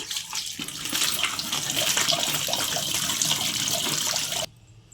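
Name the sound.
washing chopped nalleru stems in water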